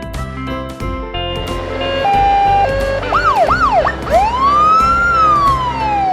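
A police utility vehicle's siren from a kids' cartoon, loud and alone: steady tones give way to rising and falling wails, then one long sweeping whoop.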